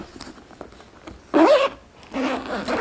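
A zipper on a leather bag is pulled closed in two loud, rasping strokes, separated by a short pause, close up over a faint background.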